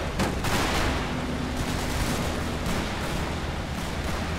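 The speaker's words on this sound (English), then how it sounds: "Rifle grenades again." Rifle grenades and small-arms gunfire in the Combat Mission Fortress Italy war game, a dense rolling barrage of overlapping shots and muffled blasts, steady and loud throughout without talk.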